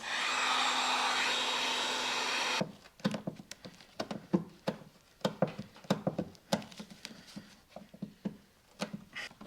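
A heat gun blows hot air onto the adhesive of a Jeep Wrangler badge, a steady loud rushing whir that cuts off after a few seconds and gives way to a series of light taps and scraping knocks.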